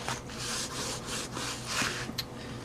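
Fauxdori cover being rubbed and scuffed to distress it, rhythmic close-up scraping strokes, about six in quick succession, loud and alone.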